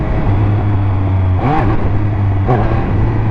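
A Triumph Speed Triple 1200 motorcycle engine in first gear hums at a steady idle, then gives two quick throttle blips about a second apart, each rising and falling back, close and loud with no talk.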